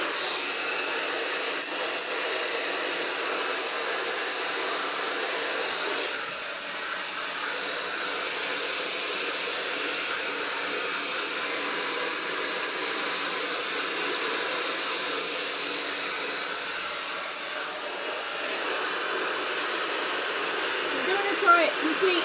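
Hair dryer blowing steadily and loudly for the whole stretch, a continuous airy roar used for blow-drying hair, with only slight dips in intensity and no talk over it.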